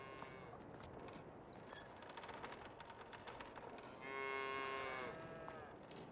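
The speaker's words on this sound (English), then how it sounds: "We've got an escaped cow." Cattle in Farming Simulator 22 moo repeatedly in a busy, overlapping farmyard chorus, with one louder, drawn-out moo standing out near the end.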